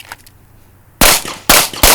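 Handgun shots during shooting practice, three loud, sharp reports spaced about half a second apart, close and alone after a quiet lead-in.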